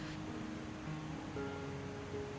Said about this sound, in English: The sound of waves softly lapping against the shore in the distance brings a calming, peaceful presence